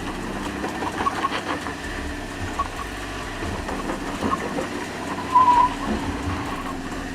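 A Volkswagen Touareg crawling in low range over an off-road obstacle course, its engine a steady low hum near the microphone, with small surges and a brief whine partway through, no talk.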